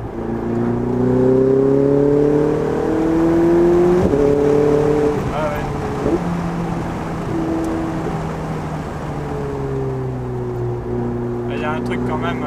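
Ferrari 488 Spider twin-turbo engine pulling up through the revs from around 3000 rpm, a loud, rising tone that climbs in several steps as gears change, close and continuous with faint cabin noise underneath.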